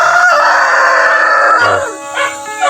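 Loud, close call from a free-range hen, a drawn-out crowing-like cry followed by softer clucks and rustling.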